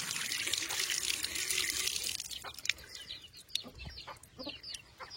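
Raw broiler chicken is rinsed under running tap water, a steady hiss of flowing water with splashing and wet handling noises, moderately loud and continuous with no talk.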